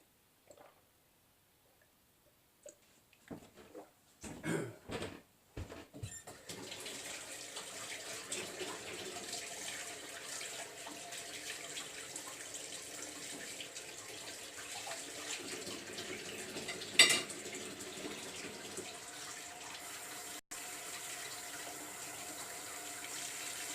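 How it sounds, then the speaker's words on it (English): Hot water poured from a kettle over a tea bag in a mug, a quiet, steady trickling splash that starts after a few soft clicks and bumps and runs on evenly for many seconds. "I'm just relying on this jank-ass literal hot water poured over a tea bag"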